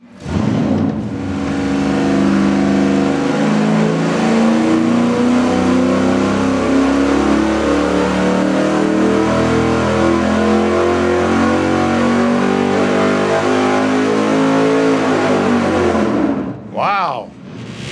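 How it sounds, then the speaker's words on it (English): Windsor V8 engine on a dyno revving hard, a loud, sustained roar climbing steadily in pitch for about fifteen seconds before cutting off sharply, with a voice briefly heard near the end. "All right, let's fire it up and find out."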